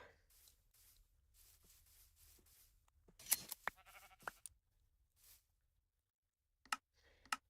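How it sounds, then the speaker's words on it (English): Donkey calls in Minecraft, set in a savanna biome, come as a few short braying bleats amid soft game clicks and faint background noise, with no talking. "Donkey. It's kind of cool."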